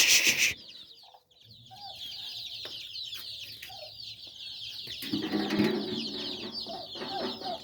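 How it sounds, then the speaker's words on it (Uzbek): A turkey hen leads a brood of about 153 chicks. Their constant high peeping fills the background while the hen gives a few nearby clucks, growing busier toward the end. "Bir 153 jo'jamiz bor. Bitta kurka olib yuribdi shular barisini."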